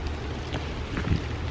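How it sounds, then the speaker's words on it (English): Outdoor rain comes down steadily as a soft, diffuse hiss, with low rumbling wind buffeting the microphone and no voices. "It's raining. Definitely coming down."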